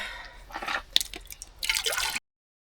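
Bottled water poured at a campsite to make up baby bottles: a few soft splashes and drips, then a brief trickling pour, quiet and close before cutting to silence.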